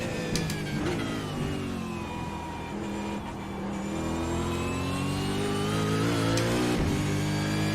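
Powerful race car engine in the Bathurst 1000 racing video game, the high-horsepower car with no traction control or ABS revving steadily and shifting pitch, loud and continuous with no talk.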